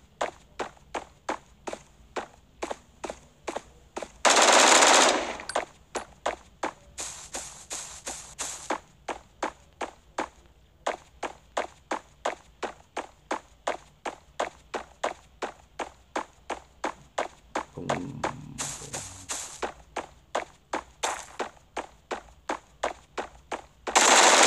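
Gunfire in an online multiplayer first-person shooter: a long run of rapid, evenly spaced shots, fairly steady and close, broken by a few brief bursts of louder noise, with no talking.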